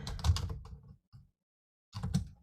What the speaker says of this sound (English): say I want to type in an address